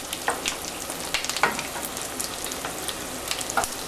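Nargisi malai koftas sizzle and fry in oil in a non-stick pan over medium-high gas heat, a steady close crackle with scattered sharper pops, occasional stirring scrapes, no voices.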